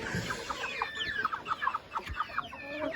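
Meat chicks on a homestead cluck and chirp in a busy, overlapping stream of short calls, close and fairly quiet.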